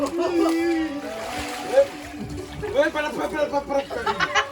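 Water splashing and sloshing into a tub being filled for an ice bath, several wet splashes under excited talk from nearby people.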